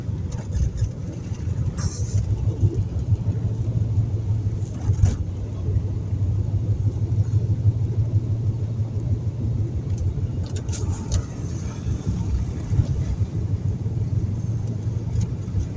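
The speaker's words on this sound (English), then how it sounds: "Just the rumble of a tight chain on your tire." Tightly fitted snow chains on a moving vehicle's tires produce a steady, close, low rumble that continues unbroken beneath the engine noise.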